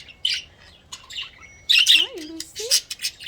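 Protective parrots squawk and chirp in short bursts outdoors, harsh calls with a few rising whistles, fairly close and loud against quiet background.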